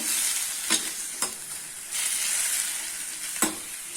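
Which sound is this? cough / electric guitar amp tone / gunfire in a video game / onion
onion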